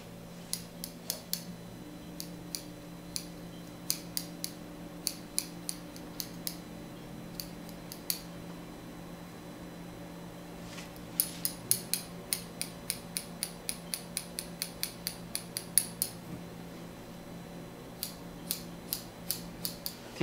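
Scissors snipping a man's hair during a soft two-block haircut with a side part, crisp close metallic clicks repeating in irregular bursts and quickening into a rapid run midway, with no talking.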